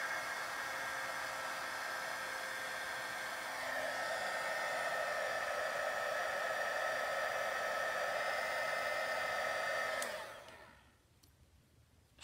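A heat tool whirs steadily and close for about ten seconds while heat-embossing a handmade card, then switches off and winds down into near silence.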